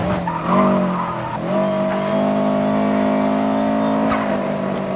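Subaru Impreza in Need for Speed Most Wanted, engine revving up and holding a strained high pitch with tyre squeal mixed in, loud and close throughout the short burst.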